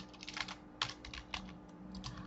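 Typing on a computer keyboard while writing code, a quick, uneven patter of close, crisp key clicks in short bursts with no talking.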